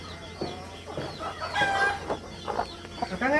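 Native Brahma chickens and a rooster on a backyard poultry farm, clucking and squawking close by in short overlapping calls, with a brief crow-like call among them and no talking.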